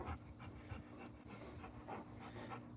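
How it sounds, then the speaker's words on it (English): A Cane Corso puppy pants in a quick, steady rhythm close by, soft and fairly quiet, with no voices. "Tiff, he's just a puppy."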